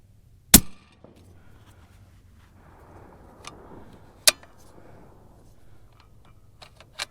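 A single sharp, loud 7mm-08 rifle shot fired with a Barnes 171 handload, followed by quiet ambient outdoor noise and a few faint clicks and handling sounds.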